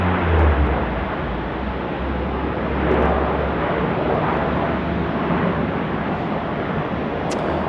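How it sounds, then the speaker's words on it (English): A Singapore Airlines jet taking off at night from runway 16 right at Sydney Airport, a steady broad jet roar heard from a distance and holding even throughout. "Time for the SQ aircraft to get on its way."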